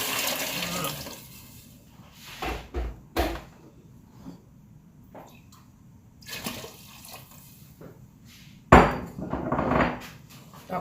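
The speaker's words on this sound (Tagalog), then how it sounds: "lalagyan ko na siya ng tubig" Water poured into a cooking pot of cooked tomatoes for oatmeal soup, splashy bursts between quieter kitchen clatter and knocks, with a louder pour near the end.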